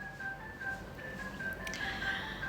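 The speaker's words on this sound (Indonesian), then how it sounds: "Itu suara ada yang telepon." A telephone gives a thin, repeating electronic tone in a faint, steady pattern, set back against a quiet room hum with no one speaking over it.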